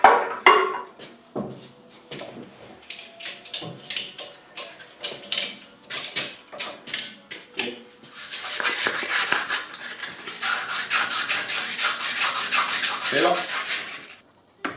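Sandpaper rubs over a single-action hydraulic cylinder from a front end loader, first in separate short scratchy strokes, then in a longer continuous stretch of steady rasping, close and moderately loud.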